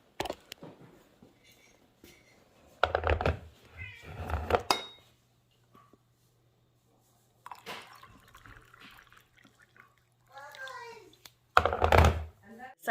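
A house cat meows a few times in short, scattered bursts, fairly close, with gaps of quiet between them and a voice speaking softly nearby.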